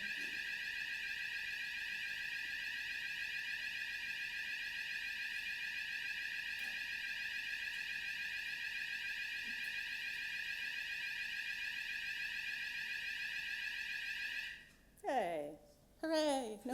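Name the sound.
fire alarm going off during a conference talk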